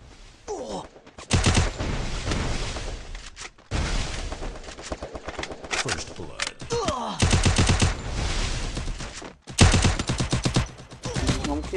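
Rapid automatic gunfire from the Free Fire mobile battle game, with repeated loud bursts and brief pauses between them, mixed with booms and game sounds.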